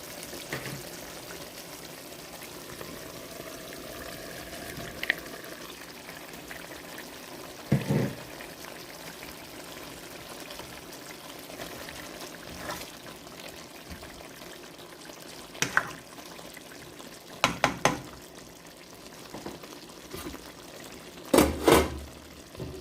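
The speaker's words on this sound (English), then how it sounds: "Add some water." Water is poured into a pot of ribs, a long continuous splashing trickle with a few sharper clanks and knocks scattered through it.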